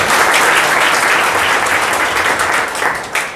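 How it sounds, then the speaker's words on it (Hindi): A worship gathering at a youth seminar claps loudly for God, a thick, sustained roar of many hands that stays strong throughout and tapers slightly near the end. "क्यों ना हम परमेश्वर के लिए जोरदार ताली बजाते हैं।"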